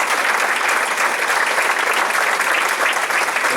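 A church congregation applauds in worship, a loud, dense, continuous wash of clapping with no speech over it.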